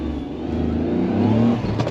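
A Daihatsu Move with a manual clutch accelerates from a standstill, its small engine note rising steadily and close, with no talk over it.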